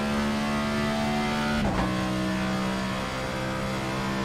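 A NASCAR Next-Gen Cup car engine roars in a racing video game, a steady loud drone that dips sharply at an upshift to fifth gear, then settles into a lower, continuous pitch as the car pulls on.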